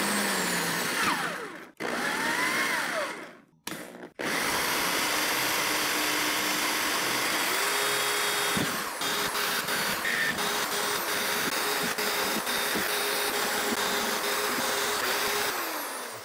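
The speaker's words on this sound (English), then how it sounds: "the way I typically drill plastic with the hole saw is this little starter bit here in the center" Loud whining power drill with a hole saw and center starter bit grinding through plastic, running in long bursts with brief stops, close up.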